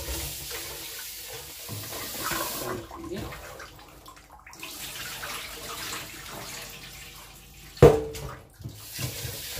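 Rice being washed in water for a rice-and-okra dish, steady running and sloshing water with a louder splash near the end, close by and without talk.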